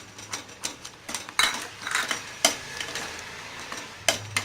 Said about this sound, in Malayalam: നന്നായിട്ട് ഇളക്കിക്കൊണ്ടിരിക്കണം കേട്ടോ